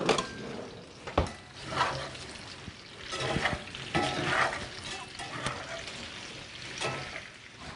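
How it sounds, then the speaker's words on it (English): Meat browns in olive oil in a pan, a soft sizzle punctuated by clinks and scrapes of utensils against the pan, quiet and close. "I'm going to put them in the pan with the olive oil and brown them."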